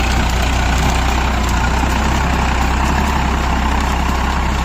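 A tractor engine runs steadily at idle with a continuous deep, loud rumble and a low throb, heard alone without any talking throughout.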